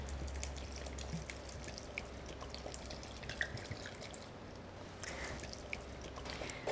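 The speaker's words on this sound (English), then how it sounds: "Now I'm gonna add a cup and a half of sugar and a cup and a half of water." Water poured into a pot with a cup and a half of sugar for a cocktail syrup, a faint trickling and dripping splash in a quiet kitchen.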